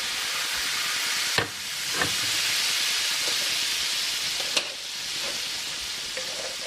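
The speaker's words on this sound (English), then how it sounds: "Add your wine. We're going to deglaze." Wine hits a hot pan with garlic to deglaze for chicken Dijon Parmesan, a loud, steady sizzle and hiss running throughout, broken by a few clinks and scrapes of a utensil.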